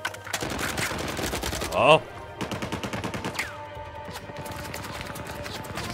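Heavy machine gun fire in Uncharted 4 rattles in rapid, dense bursts for most of the stretch, with a brief pause and a voice speaking over the shooting.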